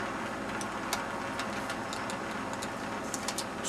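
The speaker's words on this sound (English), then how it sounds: "Sorry about the fan in the background." Electric fan running, a steady broadband whir filling the background at a constant level, with faint scattered ticks and taps on top.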